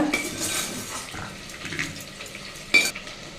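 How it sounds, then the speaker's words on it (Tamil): Garlic and onion sizzle steadily in oil in a hot pan, with light clinks and scrapes of a utensil and one sharper clatter near the end. "பூண்டு வெங்காயம் ஒன்று சேர்த்து நல்லா வதக்கி விடுங்க"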